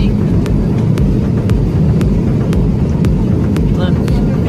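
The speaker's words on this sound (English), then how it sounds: "We're on a 787 Dreamliner." Cabin noise aboard a Boeing 787 Dreamliner in flight, a loud, constant low roar filling the cabin, with faint clicking sounds repeating every half second or so.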